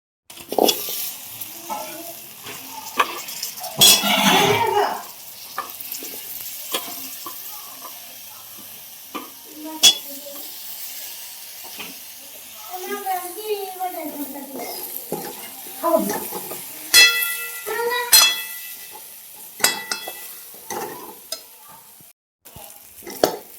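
Vegetables stirred and frying in a pan over a home stove, with soft sizzling under repeated scraping and clinking of a utensil against the pan, plus a brief splash of water.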